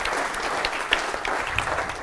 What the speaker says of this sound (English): After a round of applause first